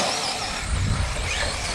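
Several RC cars race off from a start line, with engines buzzing and whining loudly and steadily. The sound is close and fills the whole clip, and no one speaks.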